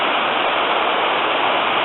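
Waterfall at Ffestiniog pouring steadily, a dense broadband rush that stays loud and unbroken from start to finish with no voices over it.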